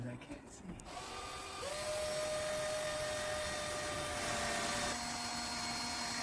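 A drill bores pilot holes in the roof of a Ford Transit 250 van: a loud, steady motor whine starts after about a second, and its pitch steps up as it runs continuously.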